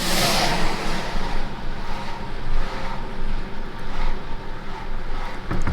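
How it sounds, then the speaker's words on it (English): Heavy trucks drive back and forth at causeway construction work near the water after a hurricane, a steady broadband engine rumble with some wind, moderately loud and continuous, with no speech. "All these trucks going back and forth,"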